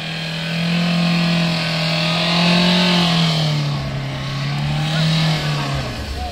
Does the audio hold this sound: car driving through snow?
yes